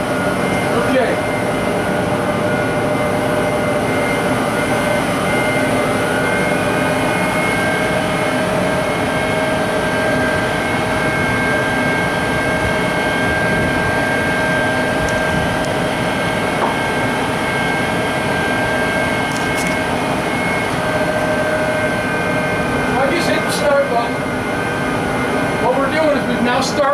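New Holland tractor engine under PTO dynamometer load, run from about 1200 down to 700 PTO RPM: a loud, steady mechanical drone with strong harmonic hum held throughout, with people talking over it.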